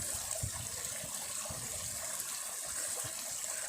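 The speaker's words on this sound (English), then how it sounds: "of the little waterfalls. Aren't they lovely?" Small waterfalls in a seaside pond give a steady, close rushing splash of falling water, continuous and alone without voices.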